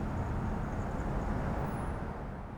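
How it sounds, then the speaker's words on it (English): Steady ambience in an urban Philadelphia underpass: a continuous low rumble of traffic and passing cars, moderately distant and without speech. "In this location, I recorded the underpass."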